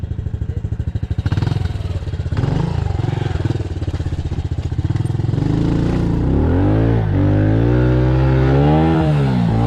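A pit bike engine revving as the bike rides through a mud hole: a loud, close, buzzing motor that holds steady, then rises and falls in repeated throttle swells.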